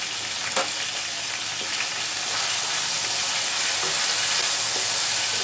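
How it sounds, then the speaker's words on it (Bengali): Chicken pieces with ginger paste, garlic paste, black pepper and salt fry in a pan, giving a steady, fairly loud broadband sizzle that runs unbroken throughout with faint clicks of stirring. "আমার চিকেনটা ভাজা হয়ে গেছে।"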